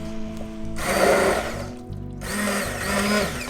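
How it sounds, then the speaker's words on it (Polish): A hand blender purees pumpkin soup into a cream in a pot, two loud whirring bursts separated by a short pause, heard up close. "I teraz zblenduję zupę na krem."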